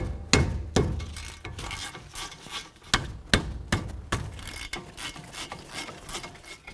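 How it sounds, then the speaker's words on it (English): A ratchet on a 2012-2017 Toyota Camry's caliper bracket bolts gives sharp metallic clicks and knocks in uneven bursts, close and fairly quiet, with no talking. "Now let's remove our caliper bracket bolts."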